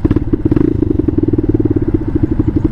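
Bashan Motomax 250 single-cylinder engine fitted with a Nibbi PE30mm carburettor idles close by, a steady loud chugging pulse with rapid regular firing beats throughout.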